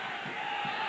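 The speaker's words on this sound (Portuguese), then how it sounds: "torcida do Bragantino, já grita o Lé" Bragantino fans chanting and shouting in the stadium during a 1993 Brazilian championship match against Flamengo, a steady distant roar of a large crowd with voices rising and falling.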